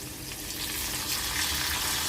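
Curry leaves sauté in hot oil in a pan for a Maharashtrian vegetarian thali. A continuous close sizzle runs throughout with faint stirring.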